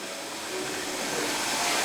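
Hair dryers run in the locker room of the Suntago water park in Poland, a steady breathy whooshing roar that fills the space and swells slightly louder partway through, with no voices over it.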